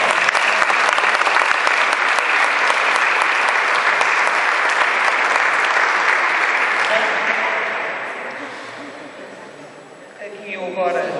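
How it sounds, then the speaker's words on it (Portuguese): Applause at a formal anniversary ceremony honoring people, loud sustained clapping from a large audience that holds steady, then fades out near the end as a voice begins speaking. "Mais uma salva de palmas"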